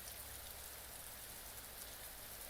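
Dense, steady rain falls and patters on surfaces in a soft, even, continuous wash, quiet and without interruption.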